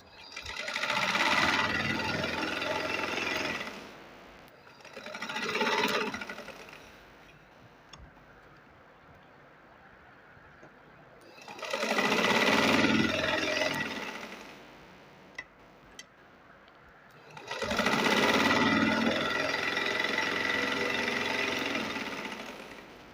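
A domestic sewing machine stitches a fabric sleeve corner in four separate bursts of fast, even whirring, each lasting a few seconds, with quiet pauses and a couple of faint clicks between them.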